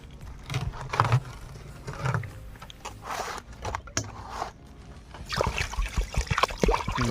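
Rice being washed by hand in cold water at a forest campsite, with irregular sloshing, swishing and trickling of water and grains rubbed together in a pot, close and fairly loud, building busier toward the end.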